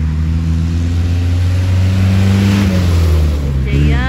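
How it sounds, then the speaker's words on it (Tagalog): Road traffic at the busy Satwa roundabout in Dubai. Engines hum and drone steadily and loudly as cars pass nearby, with one vehicle revving up toward the end. "Daming sasakyan."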